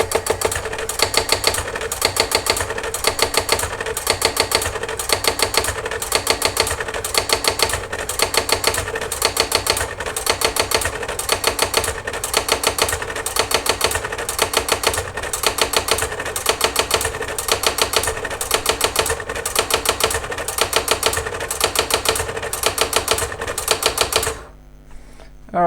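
A Brother AX-15 electronic typewriter rapidly hammers out a long, steady run of mechanical strikes as its correction function deletes a typed line. The loud, even clatter continues for over twenty seconds before stopping abruptly.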